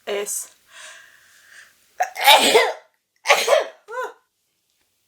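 One sharp, close sneeze bursts out, preceded by a gasping inhale, then a brief short sound after it, with a few faint spoken syllables before.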